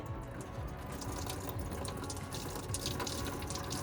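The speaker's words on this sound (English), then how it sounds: "This is a lot of liquid. Liquid is heavy." Liquid pours and splashes steadily as an engine is tipped during DIY removal, a continuous dense gush with dripping texture lasting throughout, fairly close and unbroken.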